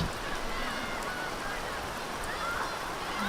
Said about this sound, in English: it's real heavy rain here now